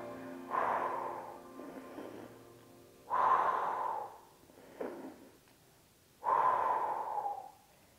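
Slow, deep breaths during an abdominal exercise for a flat stomach, with three long airy exhales a few seconds apart and softer inhales between them, close and steady with no talking.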